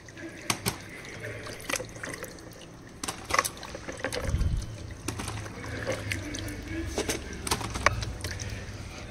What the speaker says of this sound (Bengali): তো চলো একে একে সমস্ত ফল টলগুলো আর কি ধুয়ে নিলাম।